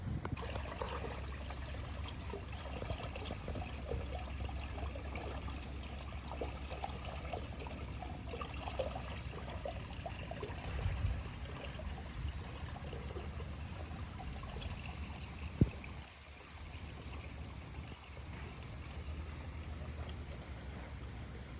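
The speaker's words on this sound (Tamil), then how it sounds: "எல்லா கொலையிலையும் தண்ணி வடிஞ்சிட்ருக்கு காமிக்கிறேன் பாருங்கள்" Water draining from a rice paddy field during heavy rain trickles faintly and steadily in an open outdoor setting, with one sharp knock partway through.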